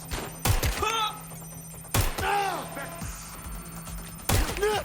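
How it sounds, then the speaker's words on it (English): Gunfire rings out in the video game Watch Dogs Legion, with three sharp, loud bursts spaced about two seconds apart, each trailing ringing echoes, and game voices and background sounds in between. "They're shooting at us!"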